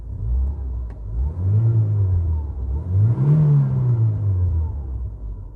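A new car's engine with an automatic choke cranks, then catches and revs, rising and falling twice in a loud, close rumble with no voices.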